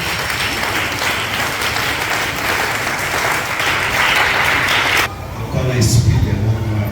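A church congregation claps and cheers loudly and continuously for Jesus, a dense wash of applause that breaks off sharply near the end, giving way to talk.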